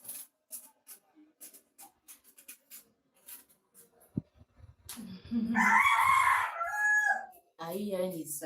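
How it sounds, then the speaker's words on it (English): A rooster crows loudly and nearby, one long, strained cock-a-doodle-doo on a quiet afternoon, after scattered soft scratching sounds and followed by a short clucking call. "That's the way it crows, like crazy"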